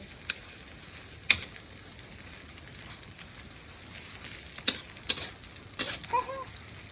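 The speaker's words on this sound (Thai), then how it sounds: "ผัดกะเพราที่เฮ็ดอยู่" Pad kaphrao, Thai holy basil stir-fried with pork, sizzles quietly in a pan, with a few sharp utensil clacks scattered through a soft, steady frying hiss.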